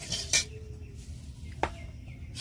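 Coriander, fennel, cumin and black peppercorns dry-roasting together in a pan, with a couple of sharp metallic clinks of a utensil against the pan over a low rustling background.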